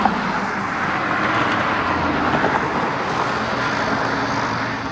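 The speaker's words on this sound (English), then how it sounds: "Spirit Airlines on an A320 taking off" A Spirit Airlines Airbus A320 takes off at St. Louis Lambert airport, its engines giving a continuous broadband roar that holds steady and loud throughout with no voices.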